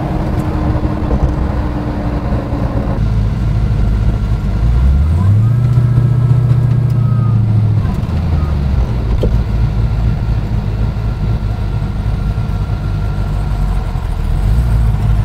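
A project car rebuilt from a bare body shell, now running and driving, gives a steady close engine drone with a brief rise and fall in pitch midway, continuous throughout.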